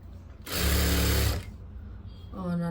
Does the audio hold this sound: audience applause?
no